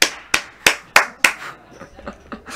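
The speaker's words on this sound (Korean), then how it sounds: "아 오늘 독사 형이 뭘 치기만 하면 박수가 나오네 바깥에서" Applause from outside a billiards room, starting with five loud, sharp, evenly spaced claps and then trailing into quicker, softer claps.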